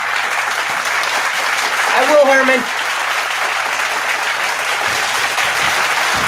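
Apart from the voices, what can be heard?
audience applause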